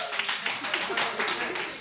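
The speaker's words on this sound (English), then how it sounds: "Give a round of applause." A group of people in a clinical skills center claps together in a dense, continuous burst of applause that lasts under two seconds, with voices mixed in.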